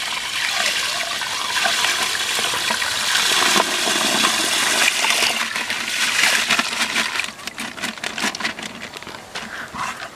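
Blue vitriol is stirred into a 5-litre bucket of water with a wooden stick. Water swirls and splashes steadily up close, ending in a run of quick sloshing strokes, with no talking.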